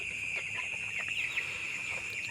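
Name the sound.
broiler chickens eating on a poultry farm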